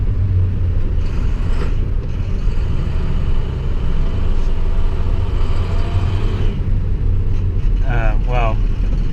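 Steady rumble of an International Durastar truck driving, a low engine and road drone heard from inside the cab, with someone talking over it.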